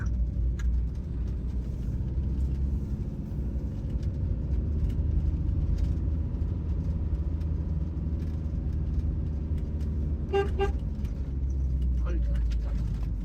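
A camper van engine pulls up a hill in Sicily, a steady loud low rumble and drone throughout, with brief squeaks or rattles near the end and people talking over it.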